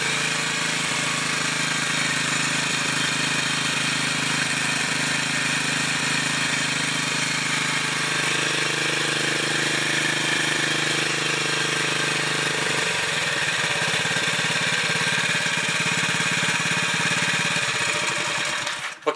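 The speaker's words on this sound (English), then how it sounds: "engine runs with it in" A Honda GX120 small engine running close by, a loud, continuous buzzing drone with a rough, steady texture that shifts slightly in tone midway and cuts off at the very end.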